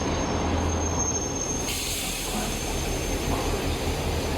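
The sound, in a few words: old railway train to Kuranda rolling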